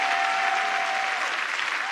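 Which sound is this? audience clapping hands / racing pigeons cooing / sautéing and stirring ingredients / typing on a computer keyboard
audience clapping hands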